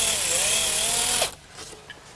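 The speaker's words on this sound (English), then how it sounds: "so I'm taking the precaution of pre-drilling the holes." A power drill pre-drills pilot holes for soft brass hinge screws in wood, a steady whining motor drone that runs for over a second, then stops abruptly, leaving quiet handling sounds.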